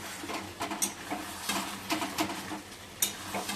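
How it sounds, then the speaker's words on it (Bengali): Meat sautéing in a kadai, a steady soft sizzle broken by irregular scraping and stirring clatters, close and moderately quiet, with no talk. "মাংস রান্না হচ্ছে"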